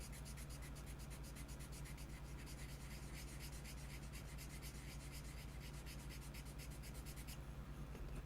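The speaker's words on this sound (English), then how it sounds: "we'll just give it a few passes on the sanding block here" Steady, rhythmic rasping of a sanding block rubbed back and forth over a hard surface, continuous and fairly quiet, with no voices.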